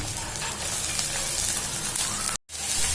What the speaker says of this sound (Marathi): मिडियम टू स्लो गॅसवरच हे सगळं मसाला भाजून घ्यायचा आहे